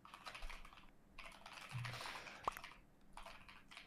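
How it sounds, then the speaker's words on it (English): Quick bursts of keystrokes clatter on a computer keyboard in irregular clusters, fairly close but soft, with brief pauses between runs and one sharp click partway through. "What are you typing?"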